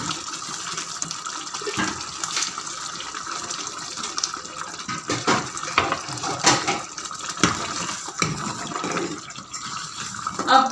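Cooking oil poured into a pan while making beef korma, producing a steady close liquid hiss and gurgle with fluttering, splashy texture throughout.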